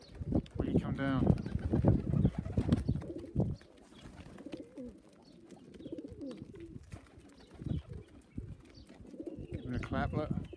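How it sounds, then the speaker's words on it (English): Young pigeons being let out for the first time coo in low, throaty bursts outdoors, mixed with a voice calling and encouraging them; the cooing is strongest early on and returns faintly at the end. "It's a pigeon."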